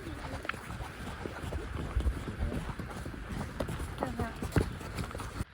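Horses on a trail ride up a volcano give an irregular clip-clop of hooves at close range, mixed with rustling and jingling and people talking.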